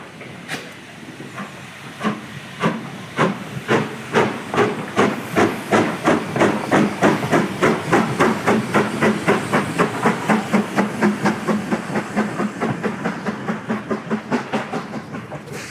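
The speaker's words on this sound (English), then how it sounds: "I can see the steam engine is now reversing." A steam locomotive reversing at the end of the line, chuffing and hissing, rhythmic bursts of steam that quicken into a steady beat, with continuous hiss underneath.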